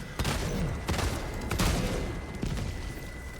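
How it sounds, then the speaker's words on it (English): A rocket sentry fires in Helldivers 2 during a fight with terminid bugs, producing repeated loud booming blasts with sharp onsets and rumbling tails in an irregular burst of gunfire. "So now I have the rocket sentry and I will just put it in the hope that the rocket sentry will just help me killing."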